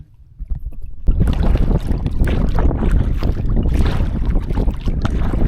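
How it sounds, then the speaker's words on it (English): Boat running into choppy water against a stiff headwind near Cumberland Island, with loud continuous wind buffeting the microphone and hull slapping through the chop, rising sharply after a quiet start. "a nice stiff headwind, making this an unpleasant ride right into the chop"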